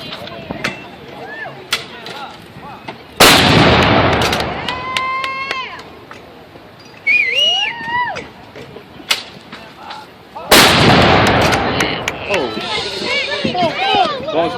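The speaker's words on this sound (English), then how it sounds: "the Battery B of the 111th Field Artillery is going to demonstrate just how quickly they can load and fire" Field artillery guns of Battery B, 111th Field Artillery, fire at a firing demonstration: two loud, booming blasts land about seven seconds apart, each with a rolling tail. People talk in between.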